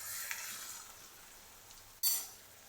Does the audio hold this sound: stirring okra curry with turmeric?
yes